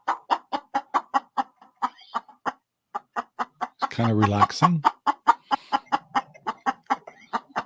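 Rhode Island Red chickens cluck in a steady, close rhythm during a morning in Central Oregon, with a brief louder squawk or call midway and a person speaking softly over them.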